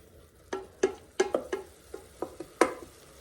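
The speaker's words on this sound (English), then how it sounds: "So we're just gonna scrape over the bottom of the pot a few times." A utensil scrapes across the bottom of an Instant Pot during deglazing after sautéing chicken, giving about nine short, distinct scrapes in an irregular rhythm, close and fairly soft, with no talking.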